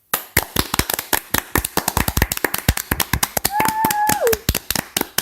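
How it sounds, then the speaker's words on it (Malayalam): Applause from a studio audience for a singer after a folk song on an Onam radio program, with dense overlapping hand claps throughout and a brief whistle-like tone near the end. "ഇത്രയും മനോഹരമായ ഒരു നാടൻ പാട്ട് പാടിത്തന്ന നമ്മുടെ അഞ്ജലിക്ക് ഒരു വലിയ കൈയടി കൊടുക്കാം."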